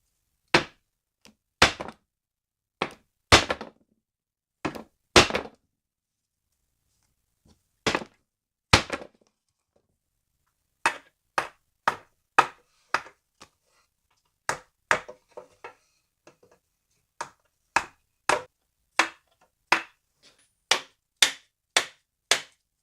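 A hammer made of paper strikes repeatedly, giving sharp dry knocks in irregular clusters with pauses between, growing into a quicker, steady series of blows toward the end.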